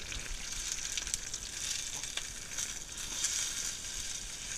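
A garlic-thyme steak sizzles steadily in a hot pan just after being flipped, a close, continuous frying hiss with small crackles and no voices.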